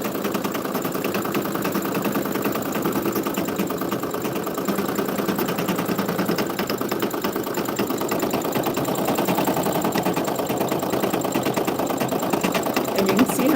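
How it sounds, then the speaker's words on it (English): An embroidery sewing machine stitching fabric while reinforcing a fill area on doll clothes, a steady fast mechanical whirr with rapid needle ticking, constant and close, with a voice speaking over it. "Machine is reinforcing the fabric by going over the area that it's going to fill with color."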